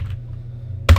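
Mouse clicks made while working in SolidWorks CAD software; a single sharp, close click lands near the end after a quiet stretch with low hum.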